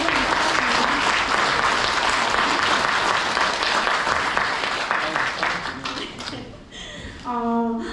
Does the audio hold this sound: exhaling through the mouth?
no